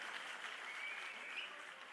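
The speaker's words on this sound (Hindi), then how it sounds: "ताली बजा दो सब लोग एक बार इनके लिए।" Audience applause at a Punjab political gathering, a steady dense clapping from a crowd that holds evenly for the full two seconds with no voice over it.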